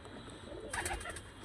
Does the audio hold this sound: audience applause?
no